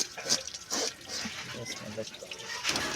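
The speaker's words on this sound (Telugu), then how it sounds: "కొరవిన చేపలు కడిగేటప్పుడు నీళ్ళు మాత్రం పుష్కలంగా ఉండాలి" Running water splashes in uneven bursts as korameenu fish are rinsed, close by and mixed with a voice talking.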